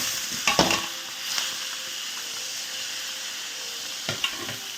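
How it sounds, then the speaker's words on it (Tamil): Tomatoes for homemade tomato sauce sizzle steadily in a hot pan, a close, continuous frying hiss. A couple of brief clatters of stirring break it near the start and end. "சட்டி சூடாகிடுச்சு. நம்ம தக்காளியை போட்டுருவோம்."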